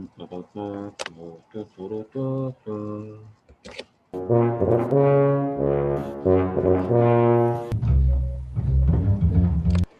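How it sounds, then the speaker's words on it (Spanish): A tuba plays low, deep notes one after another, first short separated tones, then longer sustained phrases with a rich, resonant buzz. "Este instrumento se llama tuba"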